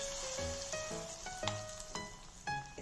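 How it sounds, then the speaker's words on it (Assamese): Flour-coated chicken pieces for crispy honey garlic chicken fry in hot oil, a steady close sizzle and crackle. A few light bursts and faint tonal clinks rise over it. "দুবাৰত ভাজিব লাগিব গোটেইখিনি চিকেন।"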